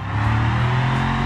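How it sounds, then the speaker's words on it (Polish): Loud, steady engine drone from a truck fitted with a new supercharger in the BeamNG driving game, holding a strong low harmonic tone for just over a second. "Ach, ta moc tej ciężarówki z tym nowym superchargerem."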